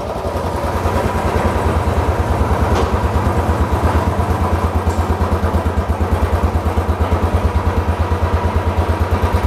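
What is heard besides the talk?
Royal Enfield Classic 350 BS6 motorcycle engine starting and idling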